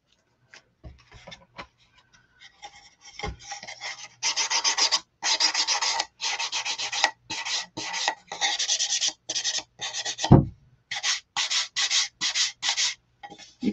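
Sandpaper rasps over the top of a faux macrame hanger, scuffing back paint to bring out the darker colour underneath. Short scraping strokes come close and steady in repeated bursts, and one louder knock sounds near the end. No one speaks.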